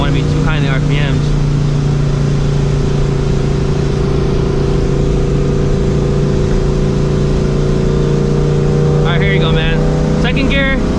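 A supercharged New Edge Mustang GT with long tube headers roars loudly from inside the car as it accelerates hard, a steady rising engine drone with supercharger whine that climbs again near the end.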